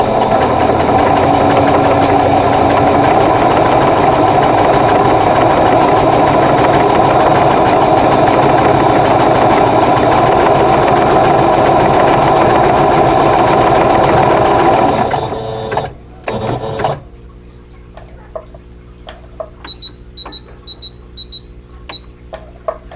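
An embroidery machine stitches an applique Christmas cottage block with a loud, steady mechanical whir for about fifteen seconds, then stops, leaving faint clicks and soft electronic beeps.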